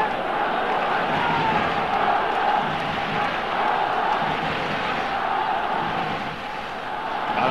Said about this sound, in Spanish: Aplausos en el Nou Camp para el Barcelona.